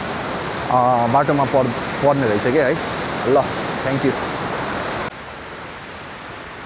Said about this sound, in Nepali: यहाँ चाहिँ एकदम बवाल भ्यू छ यो झरना हो है